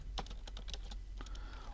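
Quick, light keystrokes on a computer keyboard tap out an uneven rhythm of clicks close by, with a short pause partway through and no speech.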